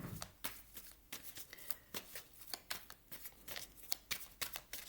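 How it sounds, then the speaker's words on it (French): Tarot cards are shuffled by hand for a reading, giving a quiet, close series of rapid riffling flutters and soft taps repeating at an uneven rhythm. "Un petit tirage ici de quelques cartes"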